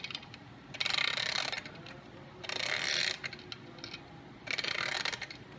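A vintage wind-up musical item is twisted to wind it, giving three bursts of faint ratcheting clicks a couple of seconds apart, with quiet pauses between.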